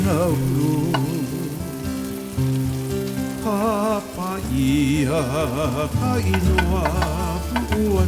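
Garlic sizzles in a hot pan with taro, a steady crackling fry that runs throughout under background music, with no talking.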